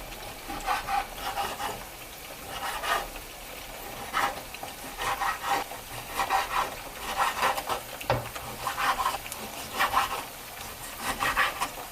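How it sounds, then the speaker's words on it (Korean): A knife cuts repeatedly through chicken on a wooden board, with rhythmic scraping strokes close up and a little sizzling in the background. "다음으로 닭을 먹기 좋은 크기로 썰어줍니다."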